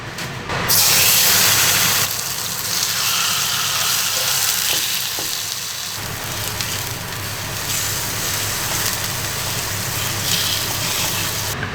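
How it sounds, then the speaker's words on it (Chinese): Two beef steaks fry in a hot pan, giving a loud, steady sizzle that crackles continuously throughout with no talking. "给2个小屁孩煎2块牛排哈"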